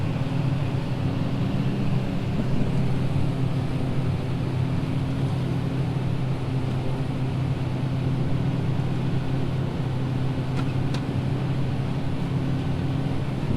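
A forage harvester chops corn and blows it into a wagon, a constant heavy engine drone and rumbling machinery roar, steady and close for the whole stretch, with no talking.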